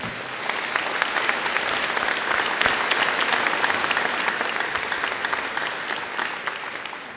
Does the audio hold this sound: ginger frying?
no